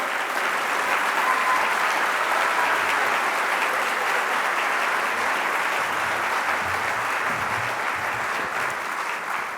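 A convention crowd applauds as Puerto Rico's Chief Supreme Court Justice is welcomed to the stage, dense, even clapping that holds steady and loud for nearly ten seconds without letting up.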